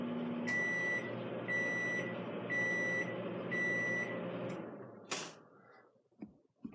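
A microwave oven finishing a short cooking cycle sounds four evenly spaced high beeps over its steady running hum, then a sharp clunk as it stops and falls quiet.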